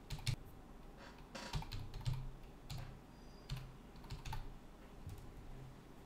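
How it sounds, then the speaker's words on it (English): Steady, quiet typing of a Laravel command on a computer keyboard, the keystrokes coming in short irregular bursts close by, with no voices. "we need to type in Laravel new and the project name"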